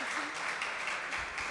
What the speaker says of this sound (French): On vous demande de les applaudir plus fort